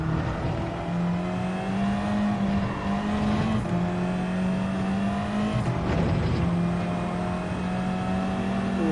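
Race car engine in Gran Turismo 7 on the Deep Forest Reverse track, loud close engine whine climbing in pitch, with quick breaks for upshifts before it climbs again, steady and continuous with no voices.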